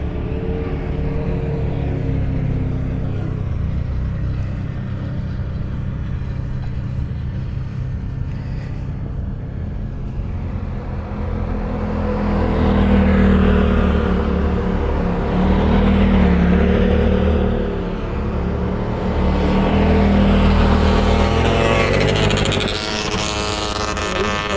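Motor vehicles pass near Red Sand Beach at Sand Hollow State Park in Utah, with a loud engine drone that swells and recedes as vehicles go by close and rev, continuous over the whole stretch.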